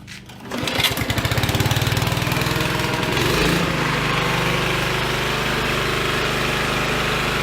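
A Honda HRA 215 lawn mower engine catches after a short start and runs loud and steady with a rough, slightly uneven idle, heard close and alone.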